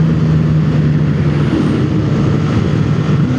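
Stock motorcycle engine running steadily on the road with a constant, loud low hum and rushing wind noise, no talking.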